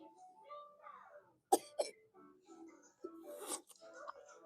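A young child coughs in two sharp bursts near the mic, between soft vocal sounds and quiet babbling from nearby talk.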